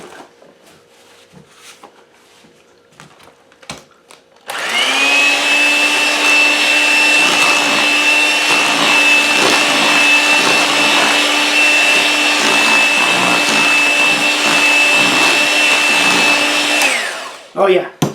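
An electric hand mixer beats an egg into caramel-toffee cookie dough. It starts after a few quiet seconds with light handling noises, then runs as a loud, steady, close motor whir for about twelve seconds before cutting off.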